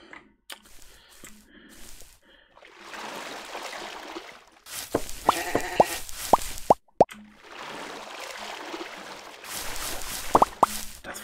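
Water in the Minetest game MineClone5 gives repeated bursts of rushing, splashy noise broken by sharp plopping and dripping blips, with quiet gaps between bursts and a louder stretch of splashing near the end.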